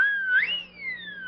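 A siren whistle built into a metal, shield-shaped sheriff's badge is blown once, a rising then slowly falling shrill wail lasting just over a second, close and alone.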